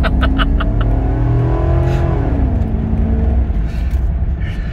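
A Fleetwood motorhome, a 1996 Dark Adri model, accelerates hard uphill, its engine roaring loud and close with a rising then falling drone as it revs through a gear change.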